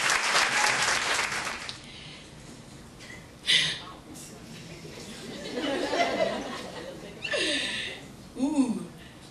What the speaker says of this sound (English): I want you to keep the applause rolling